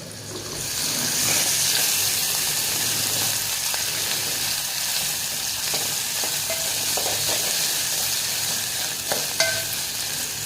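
Ginger garlic paste frying in hot oil in a pan after fish, a steady loud sizzle with scraping and stirring clatter, a few sharp metallic knocks near the end.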